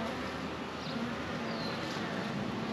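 Honeybees from an opened hive during a beekeeping inspection, a dense, steady buzzing swarm close by that fills the whole stretch without pause and with no talking.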